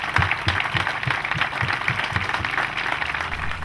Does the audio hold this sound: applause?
yes